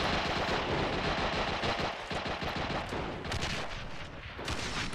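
An anti-aircraft gun fires in the World War II shooter World at War: rapid, steady bursts of heavy automatic fire that run loud and close through the whole stretch, with no talking over them.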